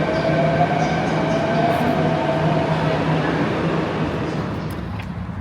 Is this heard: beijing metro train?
yes